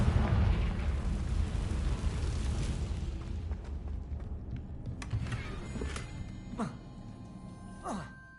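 A Confringo fire spell blasting in Hogwarts Legacy, a loud rumbling explosion that swells at the start and decays over several seconds, followed by scattered crackles and small pops.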